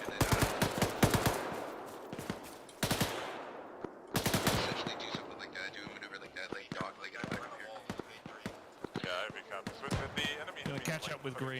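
Rapid rifle and machine-gun fire from fire teams in Arma crackles in sharp repeated bursts, some close and loud, others further off, while voices talk over the shooting.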